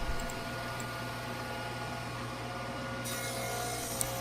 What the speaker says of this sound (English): it's pretty simple to cut really long tenons if you cut them horizontally in this fashion